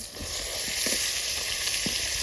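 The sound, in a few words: chicken frying at campsite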